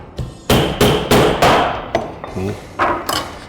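Knife chopping lemongrass on a board while preparing Vietnamese bailer shell (ốc giác) salad: about six sharp, evenly spaced chops sound up close, with a short pause before the last couple.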